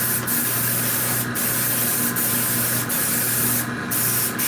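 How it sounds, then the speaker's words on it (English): An airbrush spraying resin, a loud continuous hiss that stays close and steady, broken by short periodic bursts as the trigger pulses, with no talking over it. "your airbrushing is not putting much on it"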